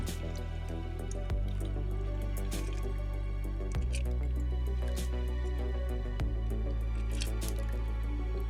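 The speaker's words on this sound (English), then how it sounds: "let's go ahead and pour in our coupe" A stirred martini is poured from the mixing vessel into a coupe glass, giving a soft, close, steady liquid trickle with occasional drips and light clinks and no voices.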